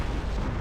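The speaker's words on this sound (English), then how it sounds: "All this effort culminating in the giant explosion" A giant explosion from the Demolisher firing in the Monster Hunter video game: a continuous, dense low rumble that holds steadily and loudly throughout with no speech.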